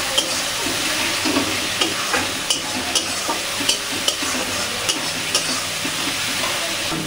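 Spice masala with Kashmiri chilli powder is stir-fried in a pan for ghugni made with goat fat, a continuous loud sizzle with repeated scraping and stirring strokes of a spatula, no voices.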